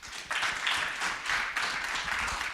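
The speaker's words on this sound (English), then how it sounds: "So let's give them a round of applause." An audience at a talk on uveal melanoma clinical drug trials claps briefly, a soft, fairly distant patter of applause lasting a couple of seconds with no speech over it.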